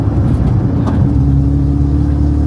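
A Volkswagen car fitted with a converted 300bhp 2.0 TFSI engine runs steadily close by, a loud continuous rumble with a brief swell partway through and no voices.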